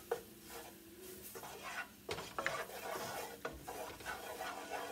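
Quiet scraping and rubbing of a utensil working a butter and flour roux around a pan for a cream sauce, in uneven strokes with occasional soft clinks against the pan.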